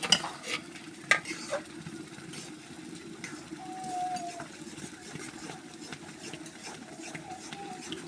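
Taro (kochu) leaves dropped into a frying pan and stirred, giving a soft steady sizzle with scraping and a few clinks of a utensil, fairly quiet and close.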